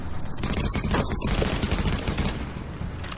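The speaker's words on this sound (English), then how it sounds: "Martinez is using a shotgun" Shotgun fire from an enemy in the video game The Division, a loud, dense barrage of overlapping shots and impacts filling the whole moment, with no one talking.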